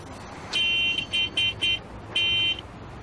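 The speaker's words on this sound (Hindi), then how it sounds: "ये हॉर्न, इसको भी यहीं बजाना है" Car horn honking repeatedly: one long blast, three short toots, then another long blast, loud and close, with no talk.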